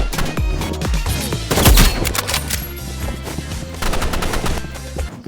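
Rapid bursts of gunfire from a shooter video game, loud and dense, with automatic fire and single shots overlapping in quick succession throughout, a heavier blast near the middle.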